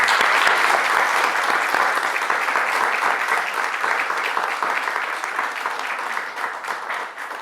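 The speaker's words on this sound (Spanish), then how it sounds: "Un aplauso para don Enzo, por favor." A live audience applauds a guest at the close of an interview: steady, dense clapping from a sizeable crowd that holds at full strength, then slowly fades a little toward the end.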